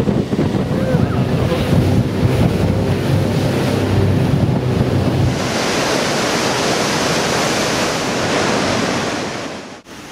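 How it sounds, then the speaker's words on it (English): Iguazu Falls and its river rapids roar loudly and continuously from a small boat close to the waterfall, a dense, unbroken rush of water with heavy wind buffeting on the microphone. "The falls douse you in a fine mist, soaking every inch of your skin."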